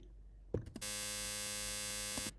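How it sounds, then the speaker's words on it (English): A synthesizer loops a tiny chunk of white noise so fast that it fuses into a steady, buzzing pitched tone. A couple of clicks come first, then the tone holds alone for about one and a half seconds before stopping abruptly. "I'm just repeating a little chunk of white noise."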